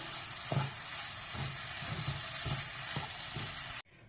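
Soya chunks are stir-fried in masala in a pan: a steady close sizzle with regular spoon scrapes and knocks as they are mixed, then an abrupt cutoff.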